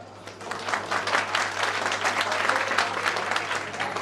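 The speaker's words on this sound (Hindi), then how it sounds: "एक ताली उन बच्चों के लिए" Steady audience applause fills the hall at a students' honour ceremony for toppers of an arts coaching class in Gaya, sustained and fairly even, with a low steady hum beneath the clapping.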